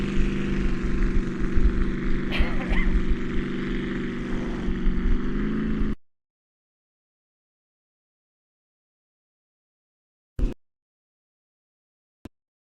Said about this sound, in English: Tony Murphy now running the zoomy pipes in this boat